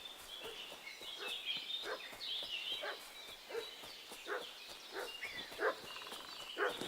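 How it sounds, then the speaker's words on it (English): A dog barks in Kingdom Come: Deliverance II, sharp yelps repeating roughly every half second at a moderate distance, over a steady outdoor ambience with a high bird-like hum. "What's that dog making such a fuss about?"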